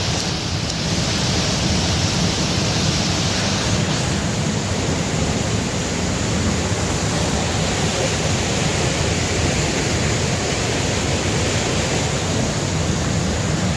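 A waterfall on Maui roars steadily as a dense, unbroken rush of falling water, loud and close, with no voices over it.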